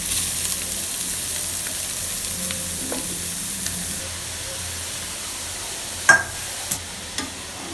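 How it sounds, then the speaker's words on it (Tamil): One kilogram of grated carrot sautés in a tablespoon of ghee in a pressure cooker, giving a constant close sizzle and hiss, with a few clinks from stirring toward the end. "ஒரு 2 ல இருந்து 3 நிமிஷத்துக்கு நல்லா இந்த மாதிரி கலந்து விட்டுட்டு இந்த கேரட்டை வதங்க விடுங்க"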